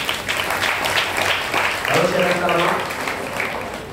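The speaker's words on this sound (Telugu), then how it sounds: "చప్పట్లు కొడుతుంది." A church congregation claps during a Sunday service, a dense, steady wash of applause that runs for several seconds with a voice carrying through it.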